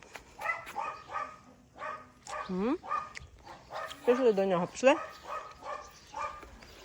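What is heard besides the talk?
dog barking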